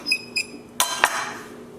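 A butter knife and fork clink against a plate while cutting open a portobello mushroom topped with seitan rice and pepper jack nut cheese: a few sharp metallic taps and scrapes, close and clear, with no talk.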